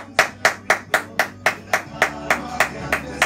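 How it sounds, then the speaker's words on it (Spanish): Applause during a live Spanish-language radio show broadcast: steady, evenly spaced hand claps, about a dozen sharp beats in a row, fairly close and alone without talk. "Un fuerte aplauso, venga."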